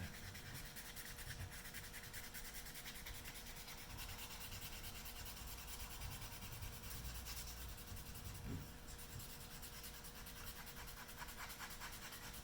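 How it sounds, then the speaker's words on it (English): Steady, continuous rasping of sandpaper rubbing across a wood finish, across the grain, a soft even scratching that persists throughout with little change, no voices. "You hear the difference in the tone of the sandpaper as it makes contact"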